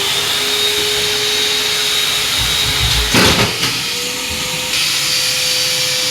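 An INALSA Micro WD10 wet and dry vacuum cleaner with its floor brush attached runs with a loud, steady motor whine and airflow roar, interrupted midway by a short bump and shift in pitch.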